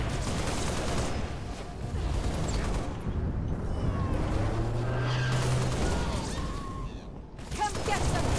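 Rapid gunfire and blasts from a Halo: Reach firefight crackle continuously at moderate loudness, with scattered shots, mechanical clatter and a thin whine, while someone speaks over the battle.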